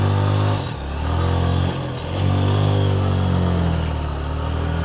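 A TVS Metro 110cc motorcycle being ridden up a hill road, its engine droning steadily and close throughout, with brief dips and rises in revs as the rider works the gears.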